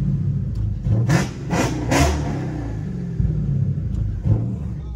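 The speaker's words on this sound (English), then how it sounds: "when you rev it up and make it shoot a flame, it literally sounds like a blowtorch" Dodge SRT 392 V8 revved hard in a street setting, rising in three quick surging blips with crackling pops, then settling into a steady deep rumbling idle, loud and close with no talk.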